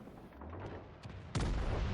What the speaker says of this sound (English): Look at the Scharnhorst's secondaries here blasting him.